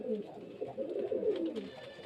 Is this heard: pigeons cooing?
yes